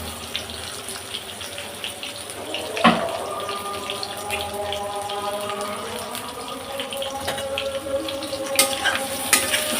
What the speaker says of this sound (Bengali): পেঁয়াজটা আমি এখন দেবো আলু আমি একত্রে ভাজবো